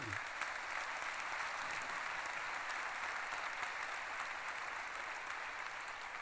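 Sustained audience applause at a business conference panel on investment and development, a dense steady wash of many hands clapping alone for several seconds at an even level.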